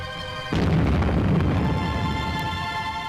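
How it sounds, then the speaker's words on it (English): A gun of the 19-gun salute fired at the Tower of London for Winston Churchill's funeral, a single heavy boom that rolls into a long, dense rumble over a steady background hum. "At the tower, a salute of 19 guns."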